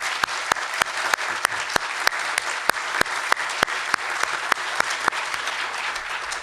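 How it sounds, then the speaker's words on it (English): Applause for award recipients at a university awards ceremony: a smaller audience claps steadily and evenly, with individual hand claps distinct and regular, fairly close, and no voices over it. "Let's give them a round of applause"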